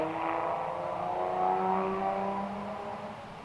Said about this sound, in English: Honda racing around in the background